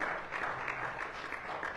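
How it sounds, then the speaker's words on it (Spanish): A church congregation gathered for a Sunday class claps loudly and continuously, a dense, even burst of applause. "Dale un aplauso fuerte"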